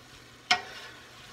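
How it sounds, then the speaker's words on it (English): A single short spoon scrape in a pot of cabbage soup vegetables with minced garlic, quiet and isolated, with faint background hiss before and after and no talking. "Just stir, stir, stir, and stir."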